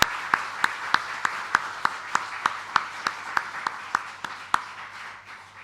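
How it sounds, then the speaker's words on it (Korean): Church congregation at a retirement and pastor emeritus installation service applauds, sounding as steady, evenly spaced sharp claps repeating in a slow rhythm and fading toward the end. "우리 박수로 함께 축하해 주시길 부탁드립니다"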